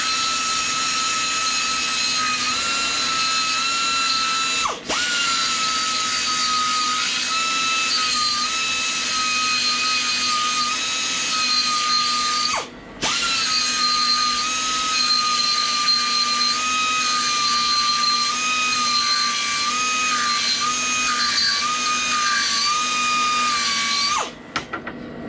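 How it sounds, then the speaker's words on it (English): A pneumatic air file deburrs the inside and outside edges of cut turbo manifold merge collector pieces, giving a loud, steady high-pitched whine across three long runs, each separated by a brief pause. "I'll take the air file and I'll just deburr the inside and outside of all these pieces"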